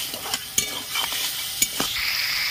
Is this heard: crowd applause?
no